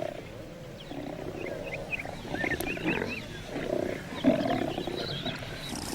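Wild lions roar in deep, rumbling bursts across an open landscape. Birds chirp faintly above them, with a steady background of ambient noise.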